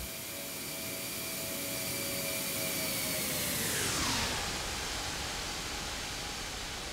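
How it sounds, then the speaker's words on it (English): An aircraft in X-Plane 11 passes close by, a broad jet roar that builds and then sweeps down in pitch as it goes past, loud and continuous. "Let's get another flyby."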